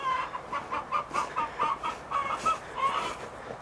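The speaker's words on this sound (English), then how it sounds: "I think I see a rooster out." A Polish rooster clucks in a steady string of short, low calls, moderately close, with no talking.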